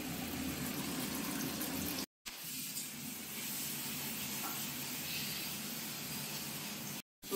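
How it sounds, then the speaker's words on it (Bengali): Ginger and green chili paste with turmeric fries in oil for a fish curry, a steady broad hiss and sizzle broken by two brief silent cuts. "আদা আর কাঁচা লঙ্কা বাটা, সেটা দিয়ে দিল তেলে"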